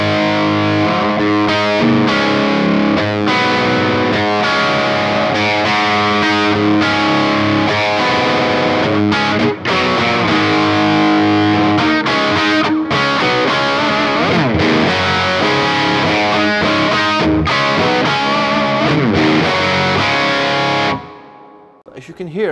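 An electric guitar played through a Yamaha THR10 amp with gain fully up and a little reverb, heavily distorted, with chugging riffs and sustained chords ringing loudly, cutting off abruptly near the end.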